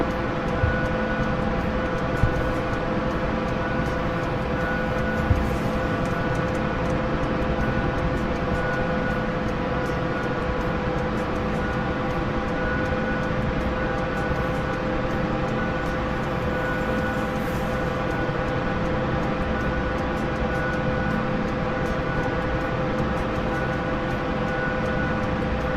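A low-flying aircraft buzzes armored vehicles, a Bradley and an Abrams, in a combat video game, giving a steady, dense engine roar that holds level throughout without voices.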